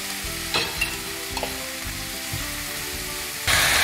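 Salted food stirred in oil left over from frying fish sizzles steadily up close, with a few scraping utensil strokes and a louder burst of crackling near the end, no talking.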